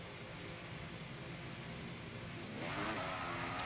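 Ferrari Formula 1 engine in a racing video game, a steady high-pitched engine whine that swells louder as the car accelerates partway through, with no talking.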